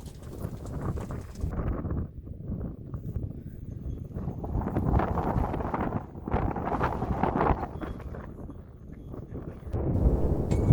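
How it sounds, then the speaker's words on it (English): Gusty wind buffets the microphone outdoors during a shipping container delivery, producing rumbling, uneven bursts that rise and fall over several seconds. "And it's just a little bit windy."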